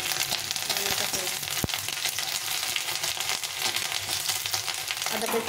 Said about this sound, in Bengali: আদাটা একটু ভাজা ভাজা হয়ে গেছে